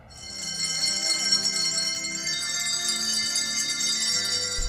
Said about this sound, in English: It's the Brashear Bell Choir.